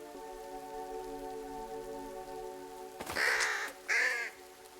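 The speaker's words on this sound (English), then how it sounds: "The bird dropped something from its beak." Two loud, near caws from a crow in a mystery detective video game burst out after a stretch of steady ambient hum and gentle rain, the second call following shortly after the first.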